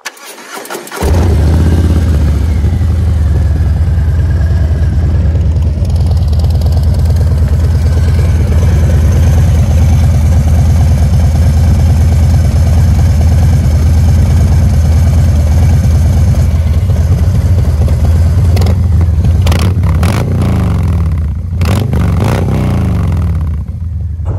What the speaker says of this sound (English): I'm going to go ahead and turn the bike on. We'll hear what it sounds like at idle, and I'll give it a few revs.